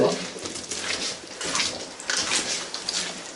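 Water pours steadily out of a drain pipe inside an underground tunnel, a continuous close hiss and splash with a few faint voices and movements around it.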